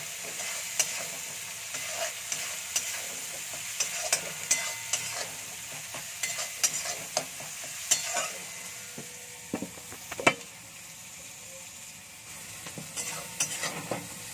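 Chickpea curry frying in a pan while chole masala is stirred in, a steady sizzle with frequent scraping and clinking stir strokes of a spoon against the pot, close and moderately loud with no talk.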